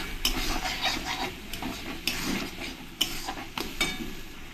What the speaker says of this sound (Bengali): দিয়ে মশলার সঙ্গে ভালো করে আমি মিশিয়ে নেব